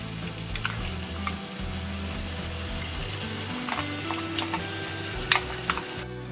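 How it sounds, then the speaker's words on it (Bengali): Tomato paste and a dry-roasted spice mix are sautéed in a pan for chicken kolhapuri, giving a soft continuous frying hiss with a few stirring clinks near the end, moderately quiet and without speech. "আমি এই সমস্ত উপকরণকে একসাথে কষিয়ে নেব 4-5 মিনিট ধরে"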